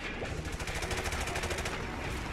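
Gunfire in the video game Call of Duty: Modern Warfare Remastered: a dense, continuous stream of rapid automatic shots, loud and close, without pause.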